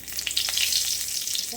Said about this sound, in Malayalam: കടുക് പൊട്ടിക്കഴിഞ്ഞാൽ നമുക്കിത് വേപ്പിലിടാം